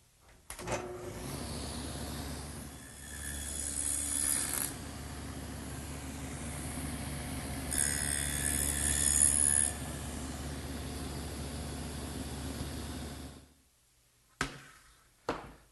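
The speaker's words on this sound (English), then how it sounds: "I'll cut that over here on the table saw using the dado head and the T-square" A table saw fitted with a dado head cuts a rabbet in oak, a steady loud machine drone with a hum underneath, rising briefly twice as the blade bites, then stopping before a couple of short knocks near the end.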